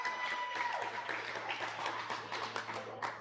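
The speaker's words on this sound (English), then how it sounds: "Round of applause." An audience at a youth sports sectional claps in scattered, moderately faint applause that runs throughout with a steady background hum.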